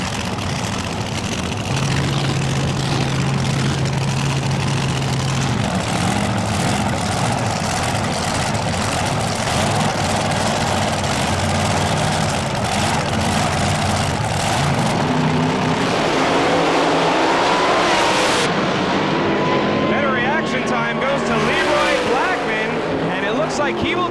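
Drag racing cars, including a T-bucket hot rod, run the quarter mile at Old Bridge Township Raceway Park in Englishtown with a continuous loud engine roar that shifts in pitch partway through, as an announcer talks over it.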